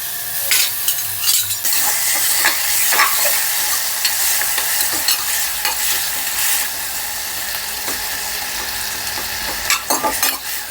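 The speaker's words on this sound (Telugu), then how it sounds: "దీన్ని బాగా బాగా బాగా వేగనిద్దాం." Garlic and salt sizzle steadily in a pan as a pasta sauce base is fried, with a dense high hiss and repeated scraping strokes of a spoon stirring throughout.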